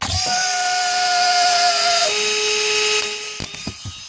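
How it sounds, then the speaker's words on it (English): A small DC motor taken from a drill whirs loudly at a steady high pitch, then slows and cuts off, followed by a few soft clicks. "we'll just take this DC motor. It's out of a drill actually"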